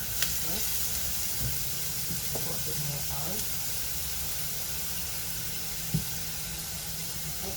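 Chicken and mushrooms fry in oil in a pan, giving a steady, fairly quiet sizzle throughout with a few faint clinks and stirring sounds.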